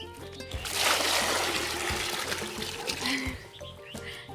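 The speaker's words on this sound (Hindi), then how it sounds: "बस अब मैं डंगरों को पानी पिला रही हूँ।" Water poured out for cattle to drink on a farm, a steady splashing and trickling with loud broadband wash throughout, faint bird calls and low background clatter behind it.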